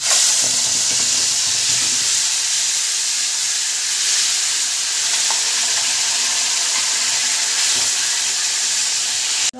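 Bay leaf and cumin seeds sizzle in hot oil as a Bengali tempering for echor chingri, a loud, steady hissing fry that runs unbroken from start to finish with no voices over it.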